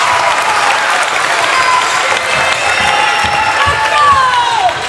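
Spectators at a high school boys basketball game between Southwestern and Somerset Christian break into loud, sustained applause and cheering after a dunk, with whoops and shouts rising from the packed gym.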